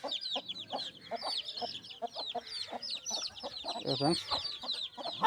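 Hens and chicks in a farmyard cluck and cheep repeatedly in quick, uneven bursts, fairly close, with a brief spoken word among them.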